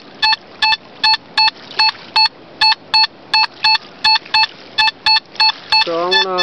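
A Simplex metal detector on a river's edge sounds a series of regular electronic beeps, about a dozen short tones in steady rhythm, ending with a rising warbling tone reading 77.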